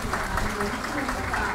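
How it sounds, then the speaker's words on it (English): Brief burst of audience applause at a Nagarjuna Homa fire offering ceremony, a steady dense clatter of many hands with a voice speaking over it. "let's give a great round of applause"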